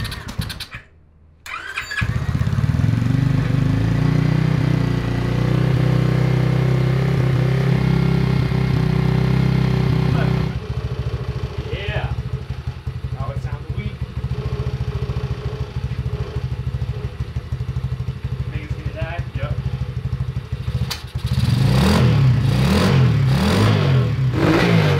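A Honda ATC 70 three-wheeler fitted with a swapped-in 140cc engine cranks and fires, then idles loudly and steadily up close with its baffle in, the throttle blipped into a sharper rev near the end.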